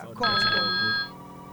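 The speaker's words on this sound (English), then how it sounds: "We got a phone call." A telephone rings with steady electronic tones for about a second in a radio studio during a live broadcast, fairly loud, with voices talking around it.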